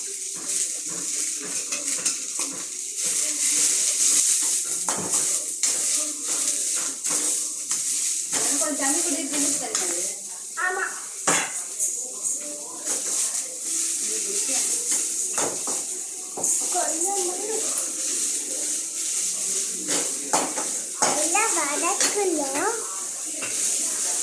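Vegetables with ginger and carrot are stir-fried in a pan, giving a continuous sizzle with scraping and clatter from stirring, while a person talks over it throughout.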